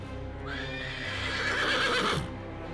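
A horse gives a loud, drawn-out whinny that rises and falls for about two seconds, with faint hoof clops beneath it and no talking.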